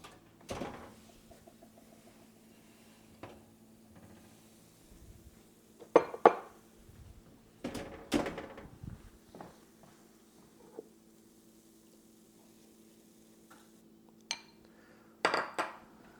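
Freshly baked pork pies come out of the oven, with sparse metallic clinks and clatters of a tray and dishes being handled amid long quiet gaps.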